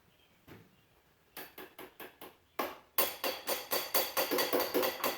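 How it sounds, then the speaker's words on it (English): Tapping on the carburetor of a Polaris 300 4x4 ATV, a series of sharp metallic knocks, first faint and sparse, then a louder quick run of about a dozen evenly spaced taps, close up with no speech. "Tap on that carburetor, it might break that choke loose."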